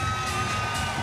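Arena crowd at an MMA event cheering and roaring in a dense, continuous wash of voices, loud and sustained over a short stretch.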